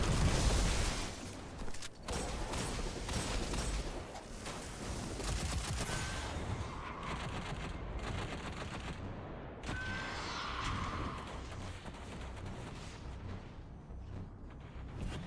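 Dense, rapid video game gunfire rattles almost without pause, a loud barrage of overlapping shots and bursts with mechanical clatter, no voices over it.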